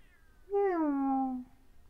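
A single drawn-out cat meow from the Ice Scream video game, clear and close, rising then gliding down over about one second against a quiet background.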